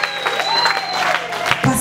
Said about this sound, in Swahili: Haleluya, makofi kwa Yesu Kristo.